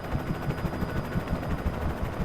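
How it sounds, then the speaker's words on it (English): An FBI helicopter in the video game Alan Wake gives a loud, steady rotor chop with a rhythmic thumping pulse under a constant roar, close and unbroken with no talk. "You in an FBI helicopter."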